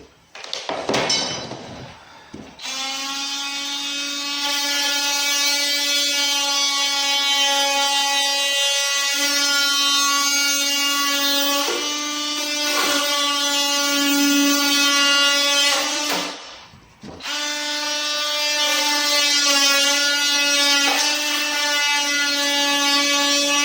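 A power tool cuts out wood for a modern staircase being built from scratch, a loud sustained whining buzz held for long stretches, broken by two short pauses, close and alone.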